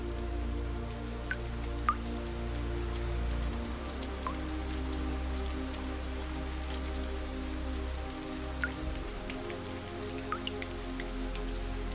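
Rain falls steadily on a surface outside, a soft continuous patter with scattered sharper drops standing out, set over a low steady hum.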